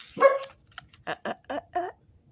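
A small dog gives a quick yelp, then four short, sharp barks in an even rhythm, close and fairly loud in a quiet room.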